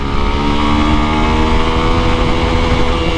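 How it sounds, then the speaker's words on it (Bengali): A Yamaha FZS V2 motorcycle accelerating through first, second and third gears, a loud, steady engine drone with rising tone heard close and continuous, without speech. "এবার চলেন ইয়ামাহা এফজেডএস ভার্সন 2, এটার ফার্স্ট, সেকেন্ড, থার্ড গিয়ারের টপটা"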